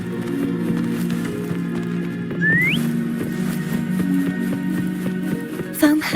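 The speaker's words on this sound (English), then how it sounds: "Try whistling. Like this." A character whistles in the video game Wuthering Waves, a single short rising whistle near the middle set against a steady hum of game ambience and soft rain-like background.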